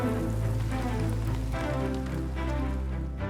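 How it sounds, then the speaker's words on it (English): Steady rain falling on surfaces, a dense, continuous hiss and patter that holds at an even level throughout with no pauses. "Rain, the source of Earth's fresh water and essential to life."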